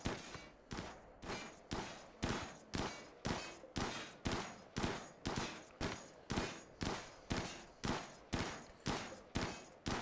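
Gunfire in RimWorld aimed at a turret, about twenty evenly spaced sharp shots with short decaying tails, steady rhythm throughout, moderately faint and with no voices.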